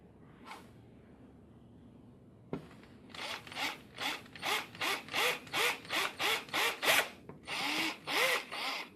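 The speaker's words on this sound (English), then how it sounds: "It's time to do some drilling." A drill boring through a waterblock gasket: after a brief start, about a dozen short, evenly spaced whirring bursts follow one another, close and fairly loud, with a small pause near the end.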